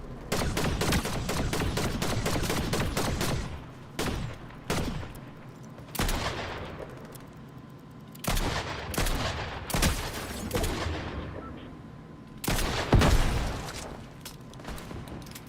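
Rapid gunfire in the Fortnite video game: dense, repeated volleys of shots and sharp bursts, loud and nearly continuous, with brief pauses between exchanges.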